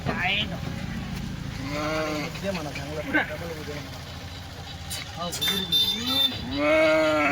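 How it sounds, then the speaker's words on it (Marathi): Nizampuri sheep bleat repeatedly while being loaded onto a truck, several wavering calls close by, one after another over an idling engine and people talking. "आता मेंढ्या चढवणं चालू आहे"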